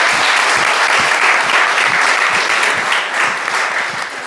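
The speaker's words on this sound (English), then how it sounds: "Let's give them all a fantastic round of applause." A large audience at a university panel discussion in Oxford claps enthusiastically, a dense, sustained wash of applause that holds steady and begins to taper toward the end.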